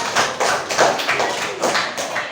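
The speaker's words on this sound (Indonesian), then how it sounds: "tepuk tangan buat kalian semua" Students in a Grade 8 civics classroom clap their hands together, a dense, continuous patter of many close hand claps lasting a couple of seconds with no voices over it.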